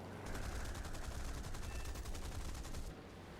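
Cannons on a Sea Hurricane Mk Ic fighter fire in War Thunder, a fast, steady, even stream of shots over engine drone that stops abruptly near the end.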